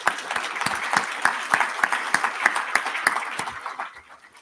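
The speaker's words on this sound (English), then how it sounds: "can we give a big cheer for Neil?" A conference keynote audience gives a short burst of applause. Individual claps stay distinct and fairly close, and the clapping fades toward the end.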